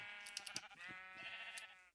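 Sheep in Minecraft pens bleat in a quick series of wavering, nasal calls, faint and close together, with small clicks between them.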